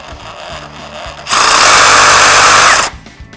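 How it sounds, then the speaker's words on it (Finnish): Makita DJR360 cordless reciprocating saw running loud and close in one sustained burst of about one and a half seconds, rising from and falling back to a quiet background. "Koneessa on valittavana kaksi iskunopeutta ja kulloinkin oikea sahausnopeus voidaan kätevästi säätää kytkimestä esimerkiksi sahausta aloitettaessa."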